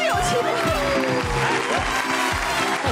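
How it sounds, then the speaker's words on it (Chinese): A television studio audience applauds on a variety show, brisk continuous clapping heard over music, with a faint voice also present. "掌声有请！"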